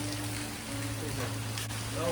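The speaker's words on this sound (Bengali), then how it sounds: "আর এখনো বৃষ্টি পড়ছে, থামার নাম নেই।" Steady rain pouring down under a dark, overcast sky during a stormy day, a continuous broadband hiss with a low drone beneath it, close and fairly even throughout.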